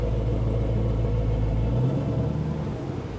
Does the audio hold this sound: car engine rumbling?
yes